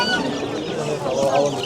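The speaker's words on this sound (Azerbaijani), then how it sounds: "Kənd cücələri var burada" Village chicks and fowl cluck and chirp continuously among the busy din of the Sabunçu poultry market, close by and fairly loud.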